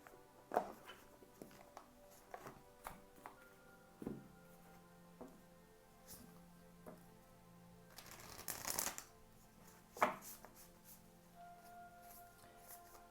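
An Akashic Tarot deck is shuffled by hand at close range, soft irregular riffles and card slaps coming in scattered bursts, with a denser flurry about two-thirds through.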